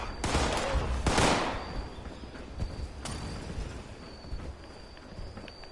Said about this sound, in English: Be very much appreciated if you also stop shooting.